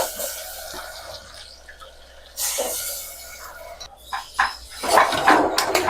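Washed cluster beans tipped into hot oil with turmeric in a pan and stirred, a burst of hiss and clatter followed by scraping and metallic stirring, growing louder toward the end with no talking.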